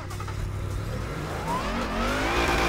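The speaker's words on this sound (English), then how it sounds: "Car sounds amazing, very loud, and very, very powerful" A Lexus RC F engine in the Torque Drift racing game revs up steadily, a loud continuous drone with pitch climbing as the car accelerates.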